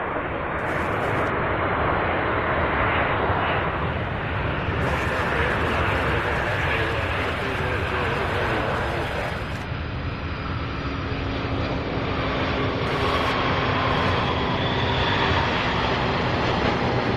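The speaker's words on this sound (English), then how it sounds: "The long-awaited flight from San Juan, Puerto Rico here. Touching down." Airliner on a flight from San Juan landing at Louisville International Airport, heard as a loud, continuous broadband jet roar with a steady engine hum throughout, and voices over radio chatter mixed in.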